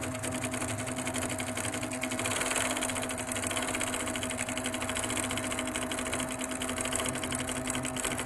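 A sewing machine stitching a feather spine in quilting runs as a steady, close, fast mechanical hum and rapid needle chatter, continuous and even throughout, with no talk.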